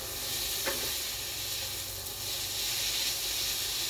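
Leftover food sizzles and hisses steadily in a hot pan during a fry-up, a continuous close crackle with a brief clatter near the start and no voices.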